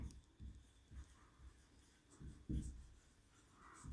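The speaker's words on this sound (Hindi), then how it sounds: "देखो क्या फॉर्मूला होता है, इसको ऐसे लिखेंगे," A math formula is written by hand, soft and close scratching strokes in short irregular bursts, faint and quiet with no talking.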